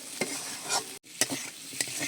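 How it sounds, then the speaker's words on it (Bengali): Chili powder being stirred into a frying curry of river fish and ground lentil dumplings with potatoes, a steady sizzle broken by a few sharp scraping strokes of the spoon and one brief pause. "লঙ্কার গুঁড়োটাকে দিয়েও আমি আর একটু নেড়ে চেড়ে নিচ্ছি।"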